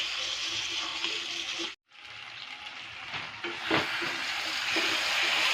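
Mutton and potatoes stir-fried in oil in a pan, a steady loud sizzle with scraping stirs and a brief pause before the frying noise resumes, no talk.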